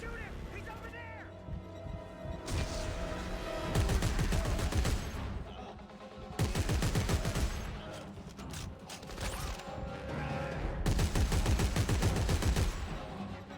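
Bursts of gunfire in the sci-fi horror video game Dead Space 3, dense crackling volleys in three loud stretches over mechanical hum and game noise, with raised voices calling out amid the shooting.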